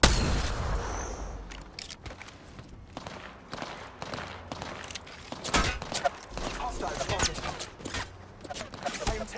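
Rapid automatic gunfire in Apex Legends, bursts of shots and impacts crackling through a busy battle mix alongside footsteps and movement, loud and close, with in-game voice chatter running beneath.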